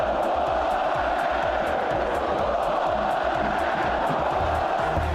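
Packed football stadium crowd during a Corinthians derby, a dense, loud, continuous roar of chanting voices with a rhythmic pulse, sustained throughout without a clear break.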